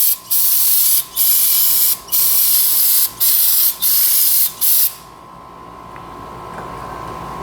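Loud, close aerosol spraying of brake cleaner onto a 2006 Hyundai Tucson wheel hub in six sustained bursts with brief gaps between them, then quiet background hum.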